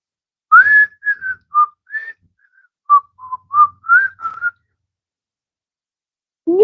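A person whistles a short, choppy run of separate notes, close and clear, with gaps between phrases and no talking over it.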